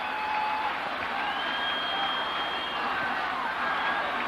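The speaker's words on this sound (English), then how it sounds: "Big crowd here at Skelly Stadium." A large stadium crowd of around 30,000 at a soccer match between the New York Cosmos and Tulsa Roughnecks at Skelly Stadium roars and applauds steadily, with whistles rising above the broad wash of noise.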